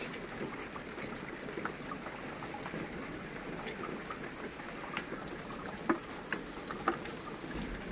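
Steady rain patters softly and evenly on potted succulents, with a few louder drips landing nearby toward the end.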